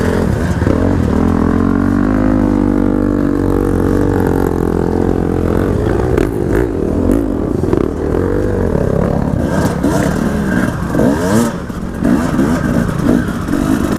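A 2018 KTM 300 two-stroke dirt bike races an enduro hare scramble, its engine buzzing and revving loud and close throughout, with rattling and clatter from rough terrain.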